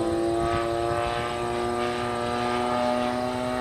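A Great Planes Avistar 30cc model airplane flies at less than half throttle, its small gas engine giving a steady, nasal propeller buzz that holds fairly loud and even.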